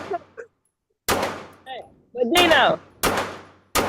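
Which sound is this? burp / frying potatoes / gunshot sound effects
gunshot sound effects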